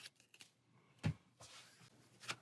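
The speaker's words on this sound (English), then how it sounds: "shuffle our encounter deck" Game cards of an encounter deck being shuffled, giving a few soft, quiet riffles and taps with one sharper flutter near the middle and another at the end.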